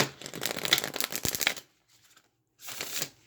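Cards from a deck of spirit postcards riffle and slide against each other in a close, crisp burst, pause briefly in near silence, then shuffle again toward the end.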